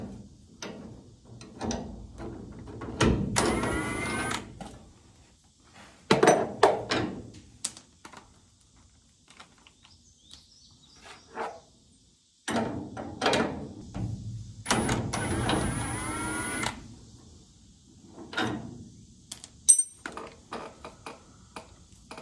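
Wrench working a rusty bolt loose, with metallic ratcheting clicks, clanks and scraping in irregular bursts up close, separated by quiet pauses and occasional high metal rings.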